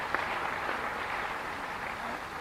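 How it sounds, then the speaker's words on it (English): Applause from an audience at a medical conference, a steady continuous patter of many hands clapping throughout. "Special applause for him."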